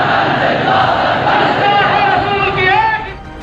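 A huge massed crowd at a rally chants slogans in unison, a loud, dense roar of many voices rising and swelling continuously, with a few louder shouts standing out near the end.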